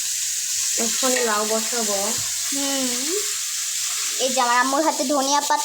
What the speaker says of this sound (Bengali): আমার মাছ ভাজা প্রায় শেষ